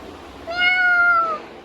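A single clear cat meow, drawn out for about a second, close and distinct against a quiet room.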